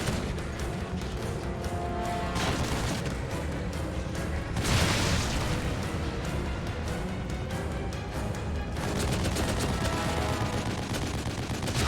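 Sustained rapid gunfire in The Evil Within, a dense continuous stream of shots with a louder burst midway and a final rattling run of fire, no talk.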